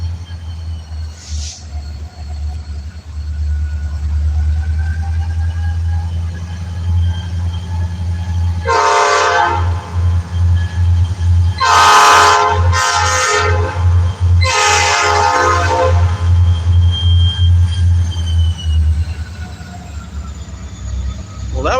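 Loud, long train horn blasts sounding at a railroad crossing, a few brief honks in a row over a steady low rumble of a moving train, with faint talking underneath.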